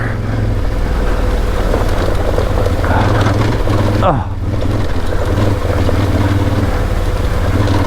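A 990 adventure motorcycle rides off-road on a dirt road, its engine a steady, close drone heard through wind buffeting the whole time, with a brief dip in the middle.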